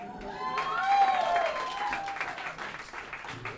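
Applause at a comedy roast show, a sustained crowd of clapping and some cheering, moderately loud and fading slightly, with a rising voice or whoop carried over it early on.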